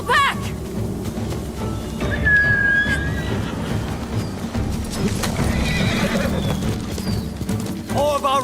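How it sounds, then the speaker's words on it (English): In the Ghost of Tsushima video game, horses whinny loudly at the start and end while hooves clip-clop steadily through a busy battle soundscape, with voices calling out amid the action. "Everyone, get to the horses."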